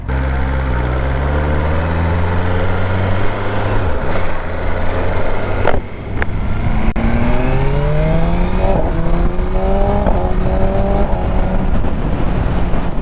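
A BMW M1000R motorcycle on a dual carriageway, its engine loud and close, pitch climbing steadily through the revs with a few quick gear changes breaking the climb. No voices.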